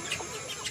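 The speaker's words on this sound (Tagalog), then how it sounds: "Itong mga bagong sisiw, bagong lipat na sisiw." Newly moved Rhode Island chicks give a brief, faint high peeping chirp or two, heard close by for under a second.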